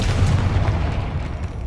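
Confringo blasting spell explosion from the video game Hogwarts Legacy, a deep rumbling boom that holds heavy low-end energy and slowly fades over under two seconds, with no talking.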